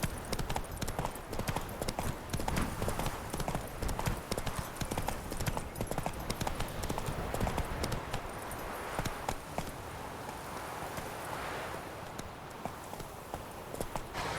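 Roach, a horse in The Witcher 3, gallops with rapid, rhythmic hoof clip-clops that sound close and loud. The hoofbeats thin out and fade toward the end.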